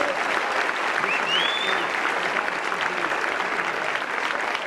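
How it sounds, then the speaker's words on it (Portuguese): A church congregation claps steadily and loudly, a dense wash of applause holding for several seconds. "Vamos aplaudir esses queridos aqui."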